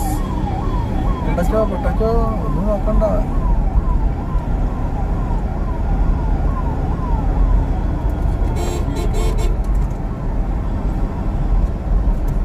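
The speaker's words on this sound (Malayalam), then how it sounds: "ആംബുലൻസ്" An ambulance's wailing siren rises and falls over heavy road noise and engine rumble, heard from inside moving traffic, with a brief voice partway through.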